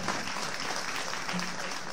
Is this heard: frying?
no